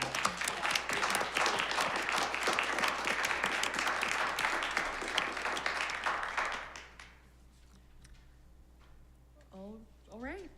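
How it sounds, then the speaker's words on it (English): A panel audience at a law school event on bail applauds with a full burst of clapping that stops abruptly, leaving a quiet room and a brief voice at the end. "just a round of applause"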